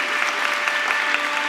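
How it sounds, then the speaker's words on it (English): Audience at a science theory event in Ohio applauding, a brief steady patter of clapping hands filling the moment. "give Michael a big round of applause."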